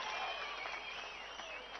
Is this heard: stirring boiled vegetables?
no